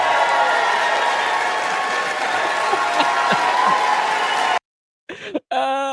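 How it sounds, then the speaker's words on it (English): Applause and crowd noise fill a legislative chamber after a vote tally, a steady dense clatter of clapping with scattered whoops, cutting off abruptly near the end before a brief burst of talk. "they're literally applauding"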